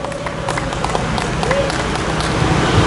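Scattered clapping rises from an outdoor political rally crowd in Bundang, South Korea, welcoming a speaker amid steady crowd noise and babble.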